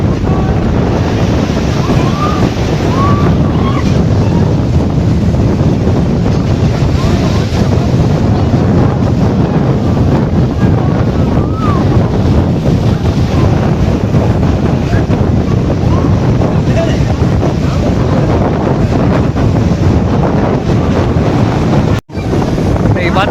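Strong wind buffets the microphone while waves break and wash onto the beach at Kanyakumari, a dense, continuous roar of surf and gusts throughout, with a brief dropout near the end.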